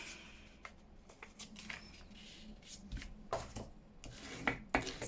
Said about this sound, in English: So I'll just burnish those down so they lay a little bit flatter